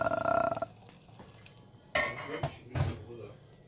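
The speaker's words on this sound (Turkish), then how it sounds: "yumurtaları beyazını bu şekilde karıştırarak böyle" Eggs are stirred in a frying pan, with a utensil clinking and scraping against the metal in a few distinct strikes after a brief voice at the start.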